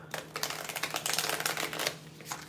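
A deck of tarot cards being shuffled, a dense run of quick riffling flutters and slaps close up for a couple of seconds.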